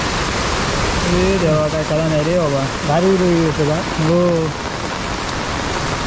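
A sudden heavy downpour in Konkan with rushing floodwater makes a dense, steady roar, while a voice calls out loudly over it.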